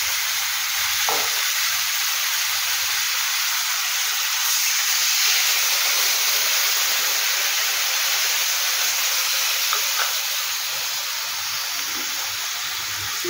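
Steady loud hiss and sizzle as water hits hot oil in a pan while cooking Bengali hilsa fish curry, continuous and close with no voices.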